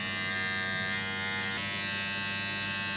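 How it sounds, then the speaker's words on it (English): An electric hair detailer trimming a moustache gives a steady, close, loud buzzing hum with a slight shift in tone midway as the blade meets hair, with no talking. "I'm gonna do my tash, and then with a detailer"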